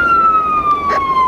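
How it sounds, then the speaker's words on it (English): A loud, near emergency siren wails in a single long tone that slowly slides downward in pitch. "equivalent to an ambulance siren"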